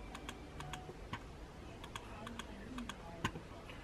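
Computer mouse clicks while working in quilt design software, a series of sharp, faint, close ticks in small clusters against a quiet background hum, with no voices.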